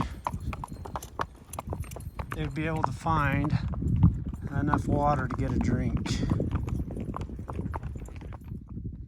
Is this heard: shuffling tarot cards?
no